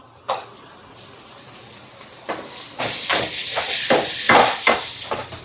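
Tomatoes sautéing in a pan with salt and tamarind give a steady close sizzling hiss that swells after the first seconds, broken by repeated sharp clinks and scrapes of a utensil against the pan.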